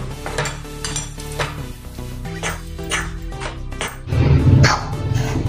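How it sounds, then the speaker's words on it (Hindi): A spoon stirs gram flour roasting in ghee in a kadhai, giving repeated close scrapes and clinks against the metal pan in an irregular rhythm, over a low background hum and a faint sizzle. "इसको चम्मच से चलाते हुए अभी भून लेंगे"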